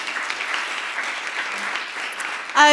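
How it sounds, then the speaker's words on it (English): Audience applause at a Musicians' Union members' conference, a steady, even patter of clapping from a seated crowd, ending as a voice begins. "Round of applause for Olga."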